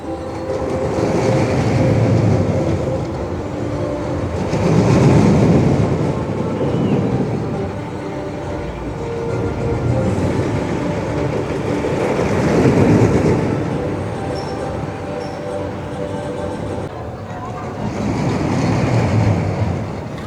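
Red roller coaster train running its track during testing at a water park under construction, a steady rumbling rush with clattering rail noise that swells and fades in repeated passes, no talking.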